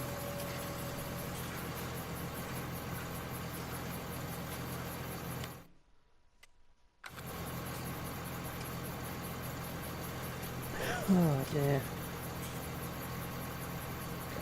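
A tractor engine idles in Farming Simulator 19 with a steady, continuous hum. The hum cuts out completely for about a second midway, then returns, and someone briefly speaks near the end.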